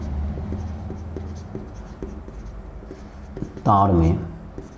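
A pen scratches out handwritten notes on a board or page during a physics lesson, with soft, repeated strokes near the mic, then a brief burst of voice near the end.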